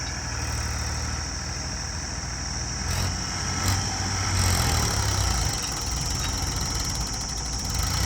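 A tractor engine runs steadily close by, a continuous rumbling drone with a few brief knocks and a slight swell partway through, and no voices.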